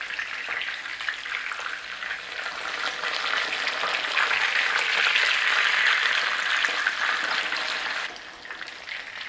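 Breaded pork schnitzel fries in a pan with a steady, close hiss of sizzling oil that swells to its loudest midway, then eases off slightly toward the end.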